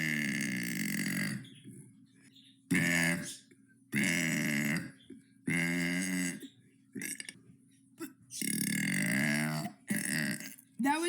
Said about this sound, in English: That was day 64 of burping for 100 days.